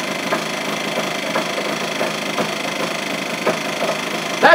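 A small engine fitted with a muffler runs outdoors, giving a loud, steady drone broken by a few brief knocks and thumps, with a sharper clatter at the very end.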